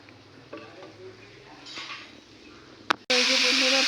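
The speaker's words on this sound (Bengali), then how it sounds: "আমের চাটনিটা বসানো হলো সর্ষে ফোড়ন দিয়ে, শুকনো লঙ্কা আর তেজপাতা আর কাঁচা লঙ্কা দেওয়া হয়েছে।" Mango chutney cooks in a pan with a mustard seed tempering, dried red chillies, bay leaves and green chillies. Quiet stirring and faint utensil clinks lead into a sudden loud sizzle that fills the final second.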